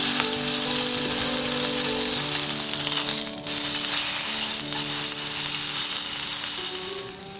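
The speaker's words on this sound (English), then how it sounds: "Sear the meat quickly on a hot pan." Beef searing in a hot pan, a steady, loud sizzle and crackle that runs evenly through the whole stretch with no voices over it.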